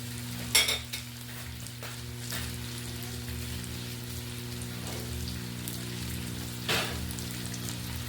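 Potatoes are stirred into adobo in a frying pan, a soft continuous sizzle with a few sharp scraping stirs near the start and end, faint and without talk.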